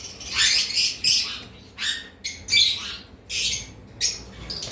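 Cockatiel and conure parrots in a breeding setup give repeated loud, harsh squawks and shrill calls in short bursts with brief gaps, close by and without talk.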